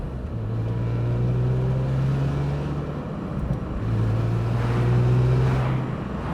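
A BMW M3 E46 with a six-speed manual gearbox cruises in sixth gear at about 45 mph and 1,500 rpm, giving a steady low engine drone with road and wind rush that dips briefly midway, heard alone without talk.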